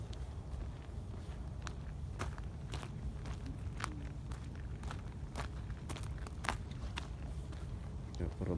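Footsteps crunch along a rocky path out at a beach in the middle of the sea, coming as a steady walking rhythm of sharp clicks over constant low wind and water rumble.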